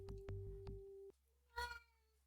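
A cat meows in the Sega Genesis game Shadowrun, heard as a few short electronic chirps followed by one drawn-out synthesized meow, loud and close with no talk over it.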